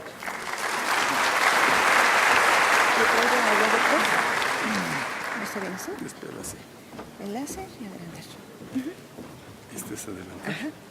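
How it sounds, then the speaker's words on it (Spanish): Strong audience applause for a doctor at an annual scientific conference on metabolic syndrome, a dense burst of clapping that fades after about six seconds as people begin talking. "les pido un fuerte aplauso para él"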